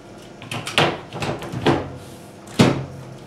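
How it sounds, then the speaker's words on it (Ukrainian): Lid of a Samsung WF 7450 NUW washing machine being handled and shut, giving a few hollow plastic knocks and clunks ending in one sharper, louder close. "Закриваємо кришку."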